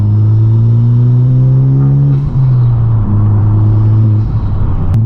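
A Honda Civic Type R fitted with a PRL turbo inlet pipe and race MAF roars close and loud, its engine note climbing under acceleration, dipping briefly at a gear change, then pulling hard again.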